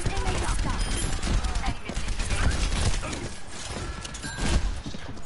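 Gunfire in the video game Overwatch: rapid bursts of shots and impacts crackle throughout a hectic team fight, loud and dense, with players talking over the action.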